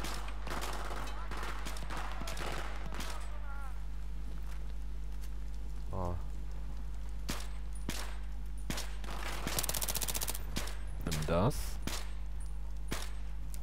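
Gunfire rattles through a Battlefield 3 firefight: repeated sharp shots and short bursts, some near and some distant, over a steady low hum, with a few clattering footsteps between volleys.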